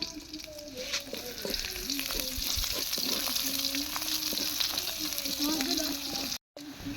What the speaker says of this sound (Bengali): মরিচ আর হলো রসুন দিয়ে তেলানি দিল, ভালোভাবে ভাজে নিতে